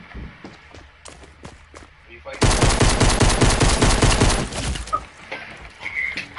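Rapid video-game gunfire from a shotgun fight erupts loud and dense for about two and a half seconds, a continuous barrage of blasts, with lighter footsteps and clatter before and after.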